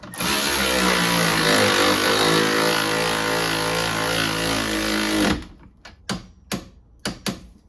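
A wrench tightens a rear stabilizer link on a Honda CR-V, a loud continuous mechanical whirring for about five seconds that cuts off into several sharp separate ratcheting clicks.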